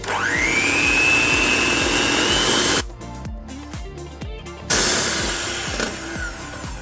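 An electric mixer whirs loudly as it beats powdered sugar, peanut butter and butter for chocolate peanut butter bars, a steady motor drone with a rhythmic thumping of the beaters, briefly dropping in pitch midway.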